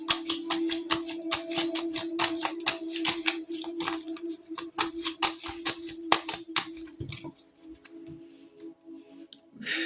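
Tarot cards being shuffled by hand in a rapid run of crisp riffling snaps and slaps, close and clear over a faint steady hum, slowing to a few softer card sounds near the end.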